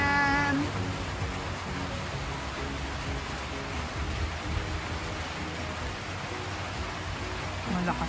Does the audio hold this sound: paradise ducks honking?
no